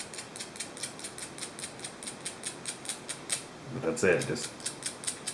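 Two quarters rubbed together as a squirrel call mimic a squirrel gnawing a nut, a fast run of evenly spaced clicks and scratches, broken briefly by someone speaking before the clicking resumes.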